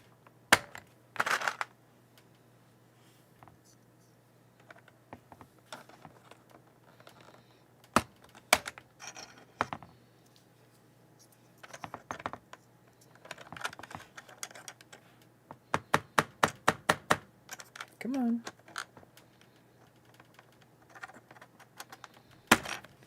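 Keycaps being pressed back onto a Logitech K350 keyboard during a repair, scattered sharp plastic clicks and snaps, single presses and a quick rapid run, close and quiet with pauses between.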